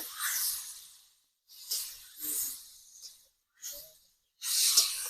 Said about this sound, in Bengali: পটলগুলো বেশ মুচমুচি করে আগে ভেজে নেবো